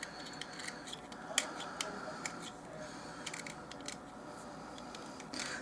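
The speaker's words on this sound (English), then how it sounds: "Take an X-Acto knife. You won't get it all off, but you'll get most of it." An X-Acto knife scrapes jelly runoff from a doll-size peanut butter and jelly sandwich, making faint, scattered clicks and light scratches over a soft, steady background.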